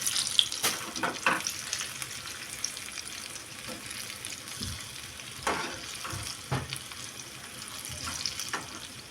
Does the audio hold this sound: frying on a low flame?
yes